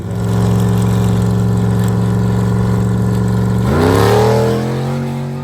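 An Ultra 4 off-road race vehicle built for rock crawling runs in the desert during the Vegas to Reno race. Its engine holds a steady, loud, close drone, then revs sharply upward and settles at a higher pitch, with no voices.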